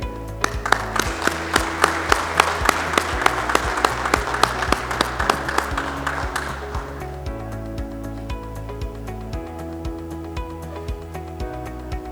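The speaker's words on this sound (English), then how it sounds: "I want you to direct your applause to all of the people here who are part of your village" Applause at a student commencement ceremony on a college campus in Kigali, a dense burst of many clapping hands that gradually thins and fades over about seven seconds, with sustained music tones continuing beneath and after it.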